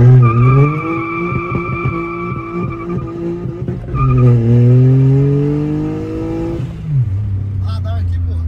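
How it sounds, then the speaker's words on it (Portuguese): A tuned Up Stage 4 car launching from a standstill: a loud engine revs up, the pitch dropping at each gear shift, then climbs again before easing off, heard from inside the car. "Exato, vamos fazer um saindo parado."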